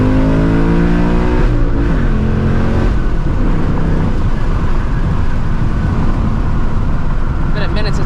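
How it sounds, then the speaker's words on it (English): A 2024 Mustang GT tuned to about 500 horsepower revs loudly and steadily while warming its tires, with a continuous roaring engine note that rises and falls and a dense rumble throughout. "I'm actually gonna go ahead and like warm the tires up right now."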